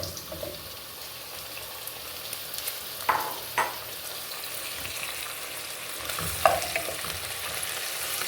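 Beef added to onions frying in a pot, a continuous sizzle with occasional clinks and scrapes of a utensil against the pot.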